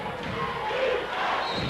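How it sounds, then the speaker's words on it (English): A big crowd at a 1995 high school boys' basketball game, Cooper City Cowboys at Hallandale Chargers, roaring and chanting defense in a loud, continuous, reverberant indoor swell. "The chant of defense has come over this big crowd"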